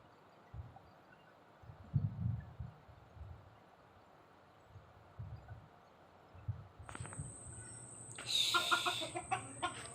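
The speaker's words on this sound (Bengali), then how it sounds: "যাও যাও ভিতরে যাও ঢুকো মুরগিগুলো ঢুকতেছে না" Chickens cluck in scattered bursts over a quiet background at dusk, and a louder flurry of clucking and squawks rises near the end as they are herded into their coop.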